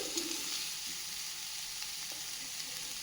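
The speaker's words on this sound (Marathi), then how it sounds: "तर सिमला मिरची देखील परतून घेऊयात आपण" Capsicum sautéing in a pan for masala Maggi, a steady, close, fairly loud frying hiss that holds even throughout, with no voices.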